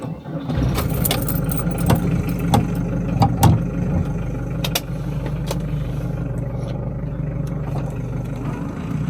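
A classic VW T3 camper van's engine runs steadily on the road, a constant low rumble with a few sharp rattles and clicks over it early on, heard from inside the cab.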